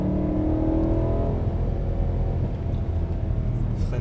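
BMW E92 M3 with a 420 hp V8 accelerating on a track, loud steady engine roar heard from inside the car with a rising tone that settles into a constant rumble.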